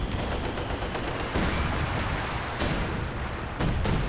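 Artillery fire from a howitzer in the video game Company of Heroes 2, heard as dense, continuous battle noise with repeated booming blasts and crackling gunfire throughout.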